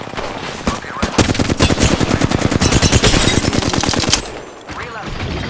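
Rapid automatic gunfire in the video game Apex Legends, a loud, dense burst of shots lasting several seconds before cutting off into quieter game ambience.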